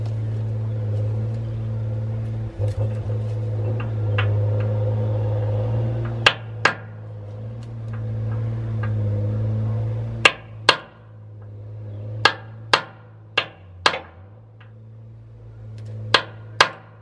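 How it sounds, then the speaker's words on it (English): Sharp metallic hammer blows on a chisel, about ten in pairs and short runs, break free a tight line on a John Deere, ringing out over a steady low engine hum. "so I'm gonna break it with a hammer and a chisel"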